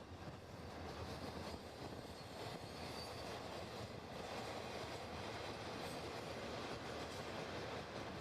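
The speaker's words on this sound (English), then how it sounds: "this is a loaded taconite train going down toward Duluth" A loaded taconite freight train heading south toward Duluth rolls by in a steady, continuous rumble with faint wheel clatter. The sound stays at a consistent level throughout, with no voices.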